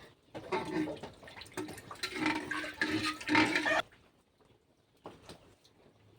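Water poured into a cooking pot for khichuri, a splashing, gurgling stream for nearly four seconds that stops abruptly, followed by a faint clatter.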